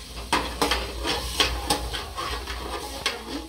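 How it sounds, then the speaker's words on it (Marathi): Peas and carrots tossed in hot oil in a pan while making mint pulao, giving a soft steady sizzle broken by repeated scraping and stirring knocks of a spatula against the pan, close and moderately loud. "हे धुवून घेतलेल्या भाज्या सुद्धा टाकते, वाटाणा आणि गाजर, आणि तेलात चांगलं परतून घेऊया एकदा"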